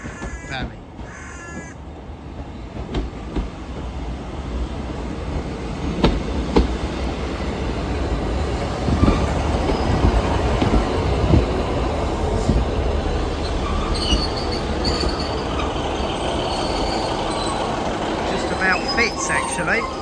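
A passenger train at Coombe Junction rumbles and squeals as it echoes around the surrounding valley, a loud sustained roar with crows cawing nearby and brief bits of talk at the start.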